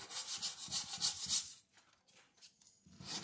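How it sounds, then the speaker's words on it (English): Sandpaper rasps by hand over a curved Buick body panel in 45-degree strokes, a quick run of rhythmic close scrubbing that pauses, then resumes. "Curves are a little tricky, but I like to stay with that 45 degree sanding."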